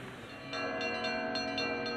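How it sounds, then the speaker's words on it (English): Church bells ring out at St. Vladimir's Cathedral in Kyiv, a sustained, resonant peal with several distinct strikes layered over a continuous humming drone, steady and moderately loud with no voices. "The bells call the faithful to Mass at the Cathedral of St. Vladimir in Kiev."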